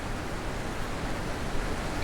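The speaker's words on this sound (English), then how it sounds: "Really like this waterfall." A waterfall in The Witness gives a steady, dense rushing roar with no breaks or other sounds.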